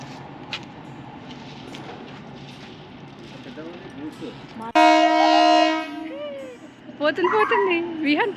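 A goods train's horn blasts loud and close in one sustained harmonic tone of over a second, after a stretch of background chatter, with a child's and adults' voices rising right after.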